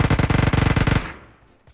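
A fast burst of automatic gunfire in PUBG, a dozen or so rapid close shots in a tight rhythm, then the sound cuts off and rings out into quiet.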